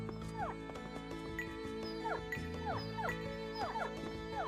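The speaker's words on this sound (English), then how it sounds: "An old dog." Old dog sound effect in a niche Wii JRPG, a run of repeated short yips and whimpering barks at a steady pace, moderately loud over looping game music.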